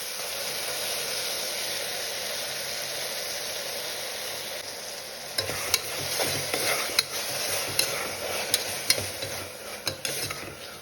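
Ground paste of coriander leaves, mint and green chilli fries in a pan as a steady close sizzle, with spatula scrapes and clicks of stirring joining in partway through, no voices.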